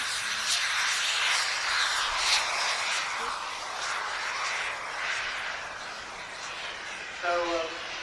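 A model aircraft at an outdoor air show drones overhead with a steady, distant engine whine that rises and fades slowly, while someone talks over it.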